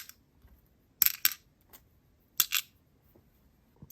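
Tiny 4 mm metal bead caps clink and tick as they are handled, in two short bursts of light metallic clatter separated by near silence.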